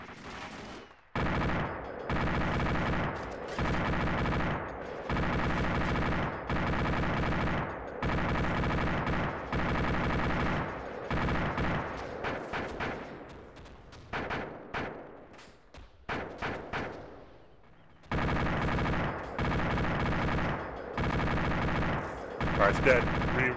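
Gunfire in the military game ARMA 2 comes as repeated loud bursts of automatic fire, block after block, with short gaps and a quieter stretch of scattered shots midway.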